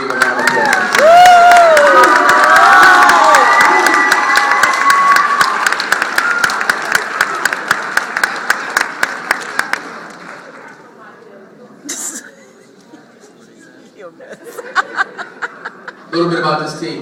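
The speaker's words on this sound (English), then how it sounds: "Please give a round of applause." At a sports team banquet, a crowd applauds and cheers loudly for conference champions, with whoops, laughter and chatter over dense clapping that thins into scattered individual claps before fading out.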